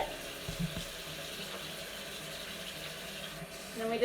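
A running tap pours a steady, soft stream of water in a sink while a small kitten is rinsed. Faint handling bumps and a quiet voice come through over the flow.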